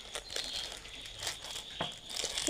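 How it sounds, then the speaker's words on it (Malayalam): Wrapping on a kit package crinkles and rustles as it is unboxed, a steady close rustle with sharper crackles through the short stretch and no talking. "ദേ ഇതിൻ്റെ നമുക്ക് എന്തൊക്കെയുണ്ടെന്ന് അൺബോക്സ് ചെയ്ത് നോക്കാം"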